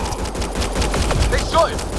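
Gunfire in the sci-fi shooter Mass Effect: Andromeda, a dense, continuous crackle of rapid shots layered with a voice calling out in the middle of the exchange.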